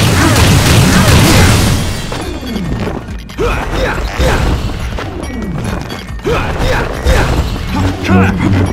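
Explosive cannon blasts and crashing impacts from a boss attack in the game No More Heroes play loudly and densely, with shouted character voices layered over the booms.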